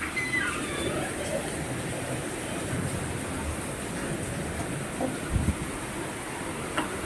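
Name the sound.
heavy rain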